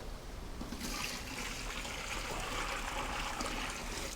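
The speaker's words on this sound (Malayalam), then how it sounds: "ചൂടുവെള്ളമാണ് ഒഴിക്കുന്നത്." Hot water is poured into a pot of sautéed chicken and spices for majboos rice, a continuous loud rushing pour that runs steadily throughout with no talk.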